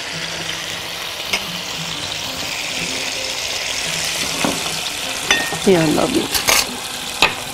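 Garlic fries in oil in a casserole pot with a constant close sizzle, broken by clattering stirs and metal knocks, while a brief voice speaks.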